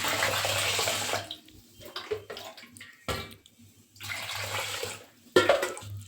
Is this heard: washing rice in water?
yes